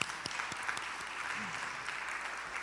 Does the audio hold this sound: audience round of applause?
yes